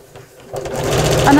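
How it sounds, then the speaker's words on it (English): A domestic sewing machine stitching fabric about a quarter inch from the edge while sewing a tote bag, starting quietly and then building into a loud, close, steady mechanical whir. "And I'm just sewing about a quarter of an inch from the edge."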